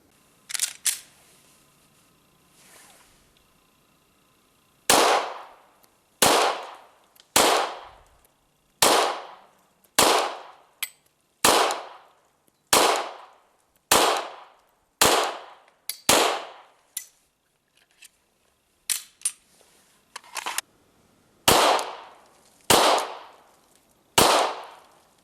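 A Glock 22 Gen 4 pistol firing .40 S&W rounds at a target: about sixteen loud, sharp reports spaced a second or so apart, each followed by a brief decay, with a few short pauses between strings.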